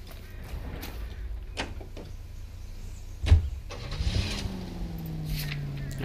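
An engine starting in the 1940s Los Angeles crime game L.A. Noire, with a sharp ignition burst followed by a steady rising rumble of the idling car. Low road ambience sits under it and there is no talk.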